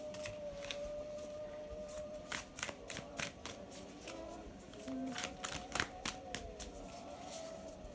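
A Nightmare Before Christmas tarot deck shuffled by hand, clusters of quick papery riffles and taps over soft background music, no voices.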